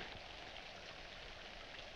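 Steady rain falls outside in a 1946 black-and-white film scene, a soft, even hiss of drops on surfaces that continues without pause and with no talking.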